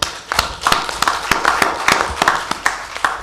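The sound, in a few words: audience clapping at annual general meeting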